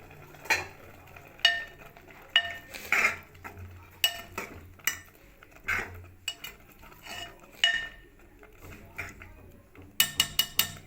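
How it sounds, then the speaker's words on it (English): A spoon stirs custard vermicelli with raisins and almonds in a pan, making repeated metallic scrapes and clinks in an uneven rhythm, close by, ending in a quick burst of taps. "Now mix it well."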